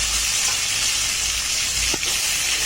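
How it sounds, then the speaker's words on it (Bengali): Tomato fries in hot oil with black cumin, giving a loud, steady sizzle with a brief stir-like disturbance near the end; no voices. "টমেটোটাকে একটুখানি ভাজা ভাজা করে নিচ্ছি।"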